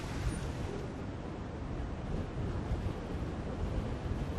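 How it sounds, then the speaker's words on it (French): Wind blows steadily on the coast at Calais, a continuous broadband rush with gusty buffeting against the microphone, no voices present. "Le vent souffle"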